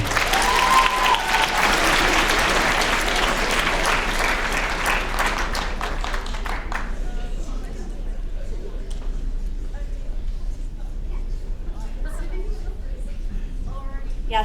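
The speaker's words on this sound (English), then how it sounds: "All right, let's clap for them one more time." Audience applause at a school writers' week reading, loud and dense at the start, then thinning into scattered claps and fading over the last half with faint murmuring.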